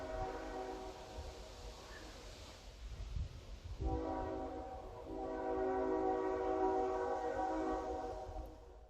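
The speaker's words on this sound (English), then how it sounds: "The train will blow the horn at crossings day and night." A train horn sounds at a crossing in long sustained blasts from some distance, rising after a rumbling pause, over the low roll of the passing train.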